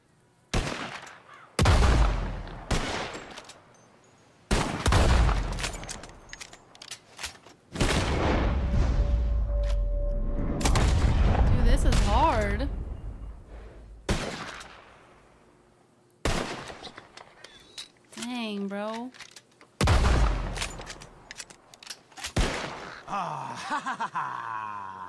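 Gunshots ring out during a bird-shooting contest in Red Dead Redemption 2: loud, sharp cracks in irregular bursts with long echoing tails and pauses between volleys.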